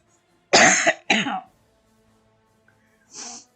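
Two sharp, close coughs in quick succession, then a pause and a softer throat-clearing cough after near silence.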